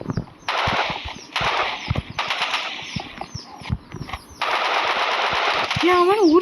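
Rapid, loud assault rifle bursts crackle in the Roblox game Rivals, several sustained volleys broken by short pauses, with a rising electronic tone near the end.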